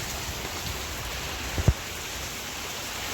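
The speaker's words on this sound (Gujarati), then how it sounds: "ધોધમાર વરસાદ વરસી રહ્યો" Steady heavy rain with wind hissing in the background, with a couple of brief soft knocks partway through; no voices.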